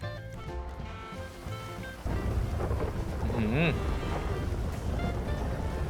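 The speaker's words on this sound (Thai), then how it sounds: "ทะเลแล้วเจอ คลื่นสูงขนาดนี้แล้วก็ฝนตกฟ้าผ่าขนาดนี้ตาย" Heavy rain and rolling thunder during a storm at sea in GTA V, a steady loud downpour with a deep rumble building after two seconds, while someone talks over it.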